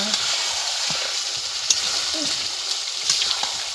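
Spicy chicken frying in a pan over a wood-fired stove, a steady close hiss and crackle of sizzling with faint bubbling and a few small clinks.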